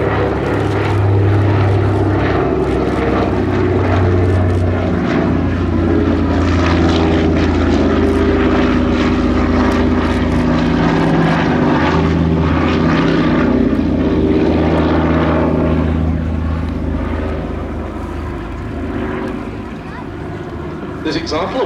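A 75-year-old Consolidated Catalina flying boat passing at an airshow with wingtip floats lowered, its piston propeller engines giving a loud, steady droning hum with a throbbing low tone that fades slightly at the end, with talk over it.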